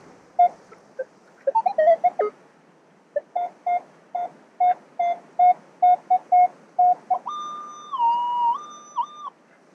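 Electronic beeps from a metal detector in an old city park, a run of short evenly spaced tones, then a longer warbling tone that rises and falls, close and clear.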